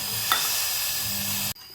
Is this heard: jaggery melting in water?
yes